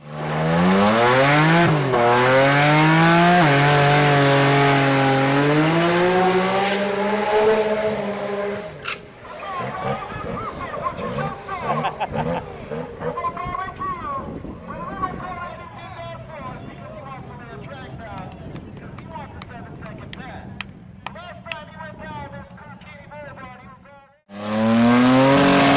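Car on a shakedown pass, engine loud and close with rising and falling revs for the first nine seconds, then fading to a busier, quieter engine drone before surging loud again at the end.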